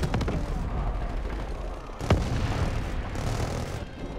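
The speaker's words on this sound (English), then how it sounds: "Fire these guns" Dense, continuous gunfire and booming weapon blasts from a vehicle's mounted guns and rockets in the Call of Duty: Black Ops 3 campaign, loud and unbroken with a sharper burst midway.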